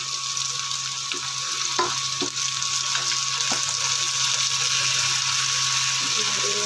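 Ridge gourd and green chillies, added to onions, fry in a pan with a steady bright hiss, a few faint clinks, and a constant hum underneath.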